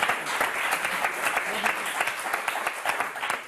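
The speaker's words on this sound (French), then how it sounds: "Et applaudir Jessica et Wilfried," Lively studio audience applause for the contestants on the French word game show Motus, with dense clapping and distinct hand-claps throughout and a host's voice speaking underneath.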